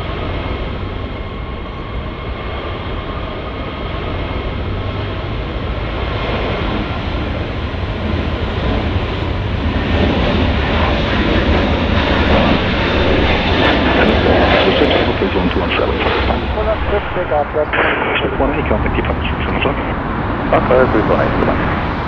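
An Airbus A330 takes off at Zurich in Infinite Flight, its jet engines roaring loud and continuous as power builds, with radio-style voices talking over the steady rumble.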